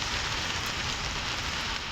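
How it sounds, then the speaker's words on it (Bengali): Heavy rain pours down at night in Kuwait, a dense, steady roar of drops hitting surfaces close by, unbroken and loud throughout with no voices. "কত বৃষ্টি হচ্ছে আজকে পুরো দিন ধরে"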